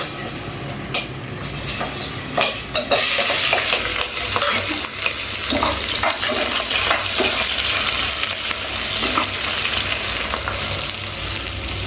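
Green chillies and onion fry in a pan, starting as a moderate sizzle that jumps to a loud, dense crackling after a few seconds, with scattered stirring clicks and no talking.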